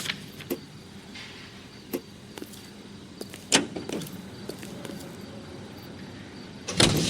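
A car in L.A. Noire gives a low, steady cabin rumble, with a few sharp clicks and soft thumps scattered through it and a louder knock near the end.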